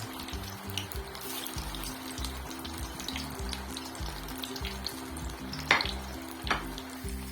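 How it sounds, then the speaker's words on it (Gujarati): Green pea kebabs deep fry one by one in plenty of hot oil over a full flame, a continuous bubbling sizzle with a pulsing low rumble and a couple of brief clinks. "એક એક કબાબ આપણે નાખતી જવાની. તેલ આપણે એકદમ ભર્યું તેલ જ રાખવાનું આમાં ડુબાડુબ"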